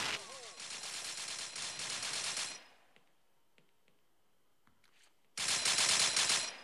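Video game gunfire from Dead Knight: dense, loud bursts of rapid automatic shots fill the opening seconds, a quiet stretch with faint clicks follows, then another loud burst erupts near the end.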